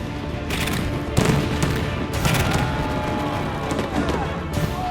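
Rapid bursts of fireworks shells firing during a pyrotechnic show, loud crackling blasts in clustered volleys with brief gaps, steady rumble throughout.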